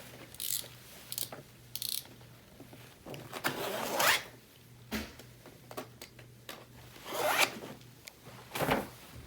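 Grasscloth wallpaper being cut, short rasping strokes of a blade through the woven fibre, close and crisp, several separate bursts with pauses between, no talking.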